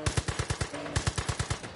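Rapid automatic gunfire from a gun in Far Cry 5, two quick bursts of evenly spaced loud shots with a brief pause between them, close and dominant.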